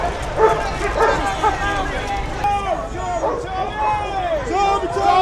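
Police dogs bark and yip repeatedly over the loud hubbub of a street demonstration, where many voices shout and chatter continuously beneath and between the barks.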